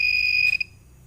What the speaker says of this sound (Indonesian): Bisa dilihat ketika LDR tidak menerima cahaya, maka buzzer dan LED menyala.